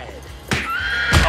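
A horse neighs twice, short loud whinnies close by, with faint background noise between calls.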